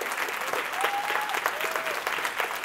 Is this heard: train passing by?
no